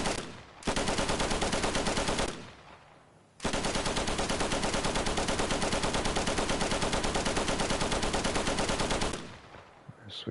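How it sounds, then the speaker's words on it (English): Sustained bursts of rapid machine gun fire in the World War II shooter Easy Red 2, one short volley then a long continuous stream after a brief pause, loud and close. "now I'm on the MG"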